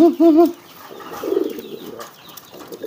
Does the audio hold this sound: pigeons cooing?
yes